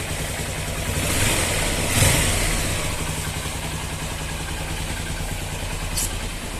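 A Honda XR 150L motorcycle engine idles steadily after a repair, running smooth and fairly quiet up close, with a slight swell in the first seconds and no talking.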